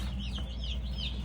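Baby chicks on their first day, chirping and clucking together in a continuous high twittering over a steady low hum, close by with no talk.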